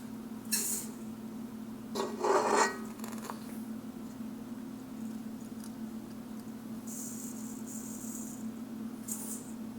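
Sugar scooped out of a container for homemade brown sugar, a few short close scraping and rustling scoops over a steady low hum, one louder gritty scoop early on, no voices.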